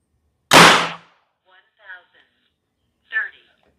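A single sharp air rifle shot, an AFC Bandit on a 1/5 valve setting fired through a chronograph, cracks loudly near the start, followed by a few brief quiet voice fragments.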